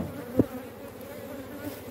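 Honeybees hum at an open hive during a beekeeper's inspection, a faint, steady low drone with one brief louder buzz as a bee passes close.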